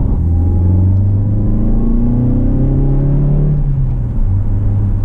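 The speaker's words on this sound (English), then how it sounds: "That was a bit of an acceleration test." Mazda CX-5 accelerating hard from inside the cabin, engine drone rising in pitch under a loud road rumble, then a shift drops the tone before it climbs again.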